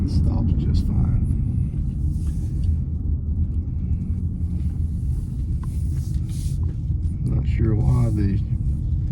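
A Ford Taurus or Mercury Sable from the 2000–2005 years with newly installed front brakes drives and stops on a test run. A steady loud rumble runs throughout, with someone speaking briefly over it.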